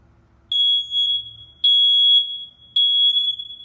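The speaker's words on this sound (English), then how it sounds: "that is a smoke detector" A smoke alarm sounds three loud, high-pitched electronic beeps, each about a second long, evenly spaced with short pauses between.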